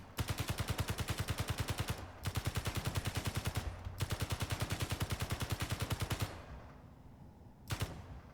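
Rapid, evenly spaced automatic weapon fire from a ship in Space Engineers, loud and close, sounding in three long sustained bursts separated by brief gaps, then a final short burst after a pause.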